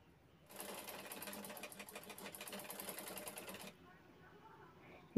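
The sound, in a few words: sewing machine stitching handbag corners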